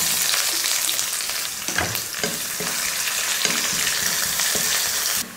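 Sliced onion frying in hot oil with bay leaves, cumin and whole spices, a steady loud sizzle with occasional scraping stirs of a spoon against the pan, no voices.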